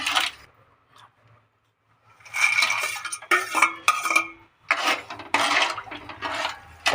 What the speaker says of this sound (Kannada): ಈಗ ಆವಾಗಲೇ ಹುರ್ಕೊಂಡಿರೋ ಗೋಡಂಬಿ ಮತ್ತು ಬಾದಾಮಿ, ಒಣ ದ್ರಾಕ್ಷಿ ಇದನ್ನೆಲ್ಲ ಅದಕ್ಕೆ ಹಾಕೊಳ್ಳೋಣ.